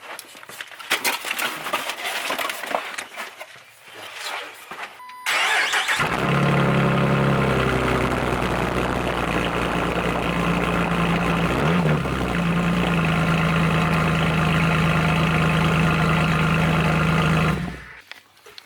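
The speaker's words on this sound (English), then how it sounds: "Go crank it up, see if it makes any difference in sound." A 2004 Jeep Wrangler TJ with a straight pipe exhaust fires up after some handling noise, then idles loud and steady close by with a deep rumble, briefly revving around the middle before shutting off near the end.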